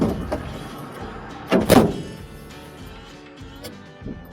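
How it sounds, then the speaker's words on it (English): The door of an old project truck with a large gap in it is pulled shut, giving a single dull, rattling thunk at mid-level loudness. Faint clicks and shuffling follow. "I don't think that door really shuts."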